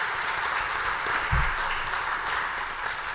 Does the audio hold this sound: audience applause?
yes